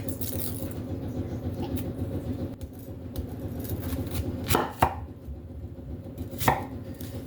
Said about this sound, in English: just cut it in half and cut it into like these kinds of pieces